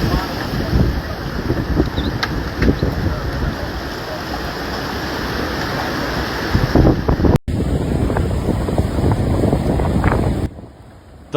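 Heavy Atlantic surf and high seas whipped up by Hurricanes Imelda and Humberto off Buxton on North Carolina's Outer Banks, a constant loud roar of breaking waves with strong wind buffeting the microphone throughout.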